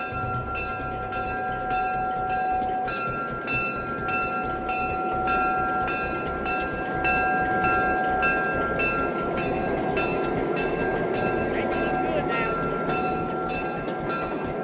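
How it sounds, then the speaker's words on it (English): Vintage railroad cars pulled by the Calera Shelby engine at a railroad museum, a steady loud rumble with ringing tonal hums and metallic clatter, close and continuous throughout. "This is the Calera Shelby engine, and it will pull these vintage railroad cars about 5 or 6 miles down the track"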